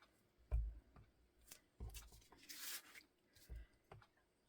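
Quiet, close paper sounds: a few short rips and rustles by hand, with one longer tearing stretch in the middle.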